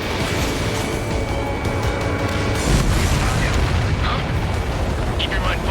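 Missile launch and explosion in the jet combat game Ace Combat 7, a dense continuous roar of engine and blast rumble with a heavy swell in the middle, loud and close under voices in radio chatter.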